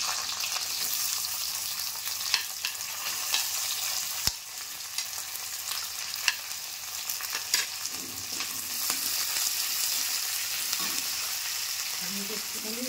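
Chopped onion fries in a little oil with garlic in a pan for chilli soyabean, making a steady sizzle with intermittent stirring clinks and scrapes, close and continuous.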